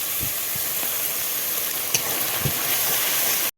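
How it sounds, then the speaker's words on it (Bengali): Turmeric and ground spice paste with cumin and coriander frying in a pan for a spicy meat curry, a steady soft sizzle with a few light stirring knocks, no talk. "একটু জল দিয়ে ভালো করে মশলাটা কষিয়ে নেব ও হলুদ দিয়ে"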